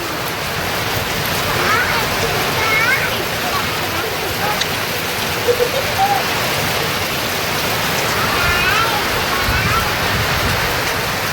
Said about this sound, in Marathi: खूप जोराचा पाऊस आहे